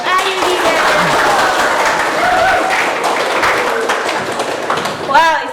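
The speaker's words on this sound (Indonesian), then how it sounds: "sekali lagi tepuk tangan untuk Ayudi Bareto." A live talk show audience applauds and cheers continuously for several seconds, a dense wash of clapping with whistles and voices mixed in.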